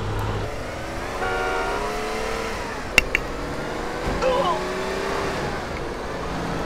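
Car engine in GTA San Andreas accelerating through rising revs in steady steps, loud and close, with a couple of sharp clicks or knocks midway and voices speaking over it.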